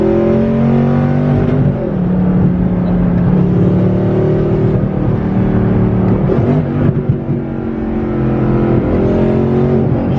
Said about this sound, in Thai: ได้เสียงเทอร์โบมาเลยเนี่ยครับนี่ครั้งแรกที่ขับทวินเทอร์โบ R8